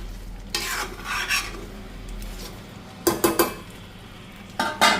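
Asafoetida sizzling in hot oil in a home kitchen pan, a soft continuous fizz broken by several sharp clinks and scrapes of a utensil stirring against the pot.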